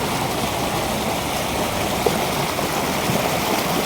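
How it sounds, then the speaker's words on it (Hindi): Gallu waterfall near Dharamshala roars in a steady, dense rush of falling water, loud and close, with no voices over it. "गाइस ये है वाटरफॉल, इसके लिए हम इतनी बड़ी लंबी चौड़ी ट्रैकिंग करके आ रहे हैं।"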